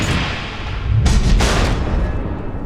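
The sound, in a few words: missiles exploding in Batman: The Enemy Within video game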